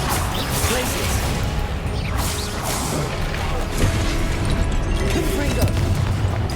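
Glacius ice spell cast in the PC game Hogwarts Legacy during combat, a loud, dense burst of magical impact and crashing effects with whooshing swishes layered over steady game music and battle noise.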